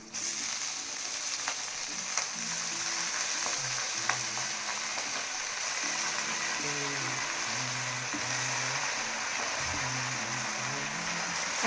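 Spinach (palak) dropped into a hot pan and frying, a steady close hiss of sizzling with a few soft stirring scrapes, with faint tonal background hum running underneath throughout.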